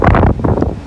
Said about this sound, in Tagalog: maririnig nyo po na sobrang lakas po talaga ng hangin